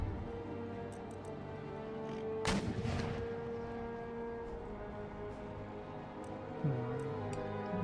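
Cannon and musket volleys from a Empire Total War battle, a sharp broadband burst of gunfire near the middle over a constant droning battlefield ambience, with a few fainter distant shots scattered around it.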